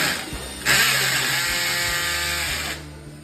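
An electric drill drives a screw into an expansion plug set in a partly hollow wall while a bathroom cabinet is being mounted. It makes a single loud, close, steady whirring run of about two seconds that fades at the end.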